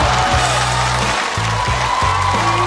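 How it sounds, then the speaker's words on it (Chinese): A stand-up comedy show audience gives sustained, loud applause that fills the whole stretch, with tonal stage music playing underneath. "再次把热烈的掌声送给珊珊哥"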